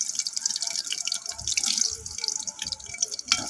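Chopped onion, garlic and tomato sizzle in hot oil in a pan, a close, continuous crackle and hiss with scattered pops and spits throughout.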